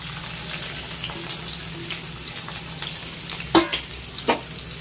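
Chopped onions, garlic and ginger frying in a pan give a steady low sizzle with faint stirring clicks and a couple of sharper scrapes near the end, no voices.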